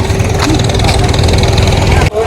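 A motorbike engine idles and runs steadily with a low, even drone throughout, close by, before cutting off abruptly near the end; no speech over it.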